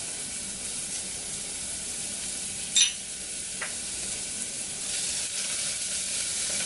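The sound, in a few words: onions and garlic frying in hot oil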